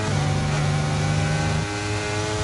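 Formula 1 car engines in F1 23 at the British or French round, a close battle between Norris and Stroll, a loud droning engine whine that shifts pitch midway as the cars jostle.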